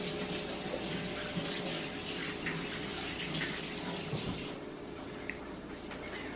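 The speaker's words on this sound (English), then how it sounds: "I'm going to rinse my hands off for a second." Hands being rinsed under a running kitchen tap while cooking, a steady close rush of water that runs continuously and softens slightly toward the end, with no talk.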